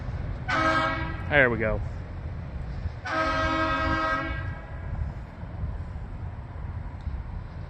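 A CSX freight train horn blows two loud chord blasts, the first with a bending, falling pitch, over a steady rumble of the passing train; someone speaks briefly.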